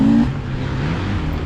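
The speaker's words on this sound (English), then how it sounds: "I do like how this engine revs." A 2024 Beta 350 dirt bike engine revving at a demo day, a close, loud motor that rises briefly at the start and then holds a steady buzzing drone.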